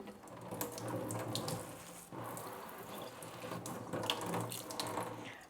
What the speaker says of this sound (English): I'm just going to use some tap water and gently just moisten the soil a little bit.